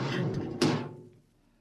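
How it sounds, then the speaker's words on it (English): Spaceship airlock door opening as a radio drama sound effect: a broad rushing hiss under faint voices, then a sharp mechanical clunk as the hatch releases, its hiss fading away quickly. "Open the airlock."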